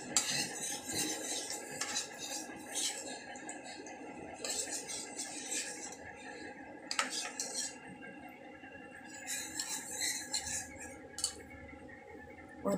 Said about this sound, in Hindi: और ये हम इसके अंदर मिक्स कर लेंगे।